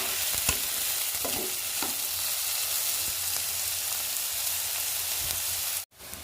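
Onions being stirred in hot oil in a pan for egg masala, with a steady sizzle and fry broken by a few scraping strokes of the spoon, close and fairly loud, ending in a brief cut to silence.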